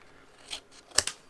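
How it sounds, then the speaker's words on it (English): Scissors are handled during paper crafting, giving a couple of soft metallic snips and clicks, close and brief, with a sharper double click near the end over a quiet room. "There's my scissors."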